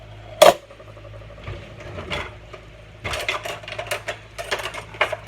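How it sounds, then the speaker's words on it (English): Toffee popcorn mixture being stirred in a pan, with a sharp clink at the start followed by intermittent scraping, rattling and clattering of the utensil against the pan. "And just stir it up."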